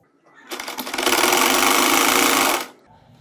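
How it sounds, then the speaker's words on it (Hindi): A sewing machine stitching plates along a salwar hem runs in one steady, loud burst of about two seconds, starting and stopping cleanly. "चलिए अब इसको सिलाई लगाते हैं। अब हम इसको सिलाइयां लगा रहे हैं।"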